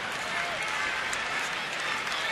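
Big crowd at a Thursday afternoon baseball game, San Francisco at Washington in the 8th inning, rising in steady cheering and clapping, a dense roar of many voices held at an even level.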